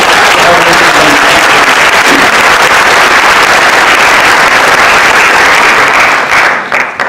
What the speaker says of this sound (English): So I want to give one more round of applause.